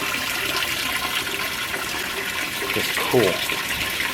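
A 2015 Speed Queen 8 Series washer with an all-metal build fills with water on its first empty wash, a steady rushing hiss of inflow with a short voice speaking briefly near the end.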